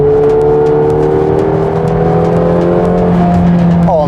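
A McLaren 720S Performance sports car drives hard through corners, its engine droning loud and steady inside the cabin with shifting tones and a faint rising whine near the end.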